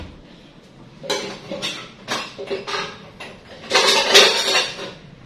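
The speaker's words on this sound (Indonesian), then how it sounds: "Tinggal di gesek sambil diaduk sampai adonan ini bisa dipulung." A spatula scrapes and stirs durian nastar cookie dough in a bowl, producing a series of close, clattering scrapes and clinks in uneven bursts that grow louder toward the end.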